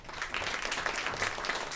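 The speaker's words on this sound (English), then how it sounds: "Give her a round of applause, please." Audience applause for a panelist at a food, climate and health panel event, a steady wash of clapping from a moderate-sized crowd that swells slightly and carries through to the end.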